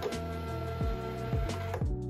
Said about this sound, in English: So I'm just gonna press it once to get the label out.